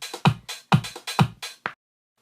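EDM beat, punchy kick drum hits layered with hi-hat and closed hat ticks in a steady, loud pattern, ending abruptly in silence.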